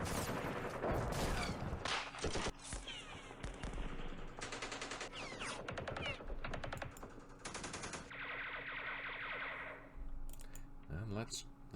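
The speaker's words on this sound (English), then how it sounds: "Let's fire through the wall." Bursts of machine-gun fire in the Campaign Series Middle East wargame's Battle of Jerusalem, rapid rattling volleys in several clusters broken by short gaps, ending in a scattered clang.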